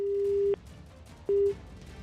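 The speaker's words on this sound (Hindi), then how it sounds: "फोन हमारा कट गया है" Telephone busy tone after a dropped call, a steady pitched beep cutting off abruptly, a short gap, then a second shorter beep, clear and close with no speech.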